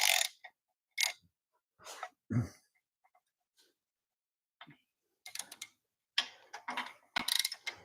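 A hand ratchet snugging the flywheel bolts on a Toyota 1MZ engine during clutch installation, clicking in short irregular bursts of rapid pawl ticks separated by pauses, close and clear.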